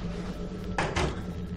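A door slams shut in the horror video game Outlast 2, two close bangs in quick succession over a low droning game ambience.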